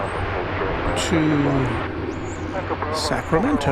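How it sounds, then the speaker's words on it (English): Airbus A321 jet airliner at Dallas Fort Worth airport, a steady engine roar in the background beneath someone talking close to the microphone. "Flight 2448 is what you're seeing right there. It's an Airbus A321."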